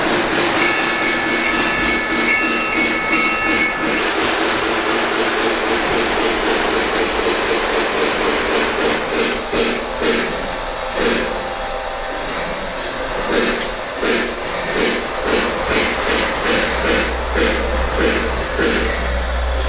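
A model train engine pulling three passenger cars runs steadily on its track, negotiating a grade, with a continuous whirring motor and rhythmic clicking of wheels over rail joints, close and loud.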